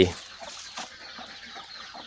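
Chickens in a nursery pen for young birds on a Thai home farm, clucking softly and intermittently close by, with a faint low background.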